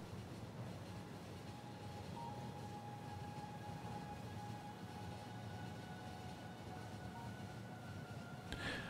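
Train rolling along in Factorio, heard as a faint, steady rumble with a thin sustained tone over it, ending in a brief bright clatter.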